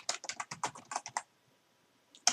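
Quick burst of typing on a computer keyboard entering a Cisco IOS router command, about a dozen close, crisp keystrokes in a rapid run, then a pause and one final key press, alone without talk.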